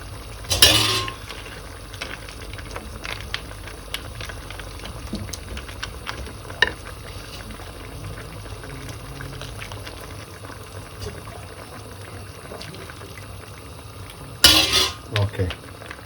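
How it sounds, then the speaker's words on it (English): Pasta with beans bubbles in a boiling pot on a stove for Neapolitan pasta e fagioli, a steady low simmer with occasional utensil scrapes and clinks against the pot at start and end. "Every so and so I stir it, make sure it doesn't stick to the bottom."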